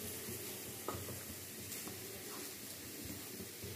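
Ingredients fry in a pan with cumin and peanuts while paneer rice is being made, giving a faint, steady sizzle with a few soft stirring scrapes.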